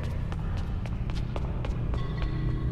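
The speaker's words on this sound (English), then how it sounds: "I don't like those footsteps I'm hearing." Hurried footsteps in Saw: The Video Game, a steady run of taps over a dense, droning game ambience, fairly close and continuous throughout.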